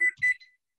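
A kitchen timer alarm goes off while granola is being made, giving two quick bright electronic beep bursts up close, then falling silent.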